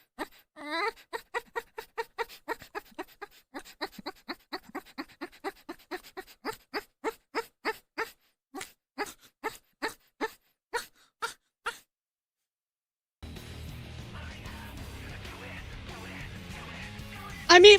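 A person's voice imitates a puppy with a long, regular series of short whimpering yelps and whines, followed by a stretch of noisy background sound.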